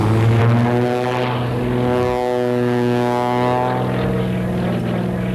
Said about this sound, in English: it's a great little airplane